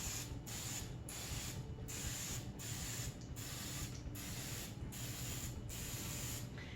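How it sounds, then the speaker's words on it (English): An oil spritzer sprays oil into a donut pan in a series of about nine quick, evenly spaced hissing pumps, close and fairly quiet. "So we're gonna start out by spraying some oil in our pan."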